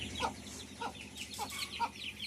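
Soft chicken clucks repeat at a steady pace, about four short calls over a faint, busy outdoor background.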